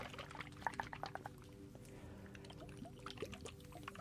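Small water globes are handled close up, giving faint liquid sloshes, soft trickles and light glassy taps scattered irregularly over quiet background hum.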